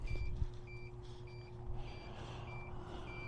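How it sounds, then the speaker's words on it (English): A small FPV drone's lost-model beeper chirps after landing, a regular series of short high electronic beeps repeating about every half second over low outdoor rumble and handling noise. "Of course, our beeper's going, saying, hey, find me."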